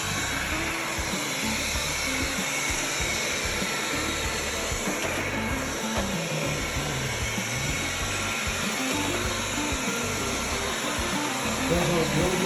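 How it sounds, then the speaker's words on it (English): A Wyze robot vacuum cleaner runs along a wall indoors, giving off a constant whirring hum at a steady level for the whole stretch. "Now this is my first robot vacuum"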